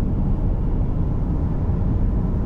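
A Tesla Model 3 Performance, all-wheel drive, accelerating hard on a track: a steady, loud low rumble of road and wind noise with almost no motor sound, holding even throughout.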